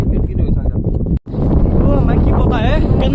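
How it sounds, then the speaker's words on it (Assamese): Strong, cold wind at Laitlum, Shillong, with rain falling, roars and buffets the microphone in loud, low rumbling gusts, broken by a brief dropout, while people talk over it. "বেয়া বতাহ দিছে"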